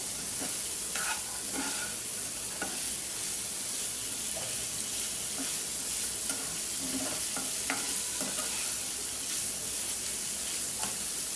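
Small fish curry cooks in a pan with a steady, close sizzle and occasional stirring scrapes running throughout, with no talking.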